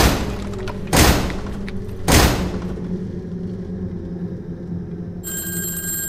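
A loud telephone bell ringing in the horror video game Dark Hours, two strong rings about a second apart over a dark rumbling ambience, followed by a thin high electronic tone.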